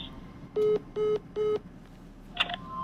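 Three evenly spaced telephone keypad tones, each a steady beep lasting about a quarter second, followed by a brief higher electronic chirp, heard clearly over a faint background hum.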